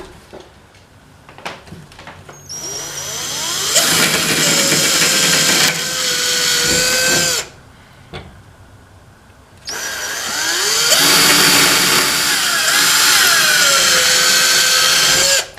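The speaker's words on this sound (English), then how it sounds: "Sounds like you're drilling through cement there for a second." A power drill grinds loudly through cement in two long bursts, separated by a short pause, the pitch straining and shifting as it bites.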